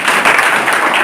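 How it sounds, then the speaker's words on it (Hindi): Students and audience applauding at a motivational seminar in a government school, a loud, dense, continuous burst of clapping from a large crowd with no break. "ताली बजाएं।"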